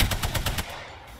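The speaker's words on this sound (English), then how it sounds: "shots fired and they're hitting me" Automatic gunfire from the battle royale video game Apex Legends: a rapid burst of about six evenly spaced shots over half a second, then fading into a quiet tail, with no voices.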